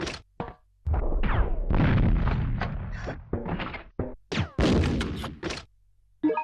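Explosive rounds fired in the Resident Evil Survivor game give a series of heavy, thudding blasts, each a loud broadband burst with short pauses between, ending in quieter thumps.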